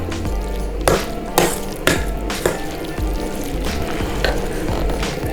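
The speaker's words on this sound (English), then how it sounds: "And just give it some stir." Seafood pasta salad with crab, shrimp, chopped celery and mayo being stirred in a bowl, with wet squishing and a series of sharp utensil clinks against the bowl, close and loud with no talk.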